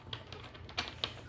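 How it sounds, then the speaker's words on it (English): A deck of tarot cards is shuffled, giving quiet irregular papery clicks and flicks at close range over faint background noise. "I like y'all to see me shuffling"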